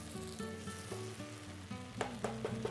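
Masala sizzles steadily in a pan while rajma is being cooked, a continuous close frying hiss with a few stirring scrapes near the end and no talking.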